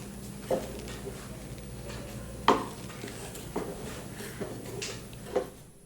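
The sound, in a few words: stirring carrot payasam (kheer) with sugar in a pot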